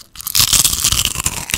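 Blackstone chili-flavored chips, an Aldi-style kettle chip, crunched loudly and close up in a rapid burst of sharp, crackling bites.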